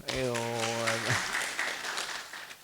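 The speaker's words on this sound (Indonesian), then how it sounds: "tepuk tangan Pak Cipto" A brief voiced sound opens before an audience breaks into applause for Pak Cipto, the scattered clapping filling the rest of the moment at moderate, fairly distant level.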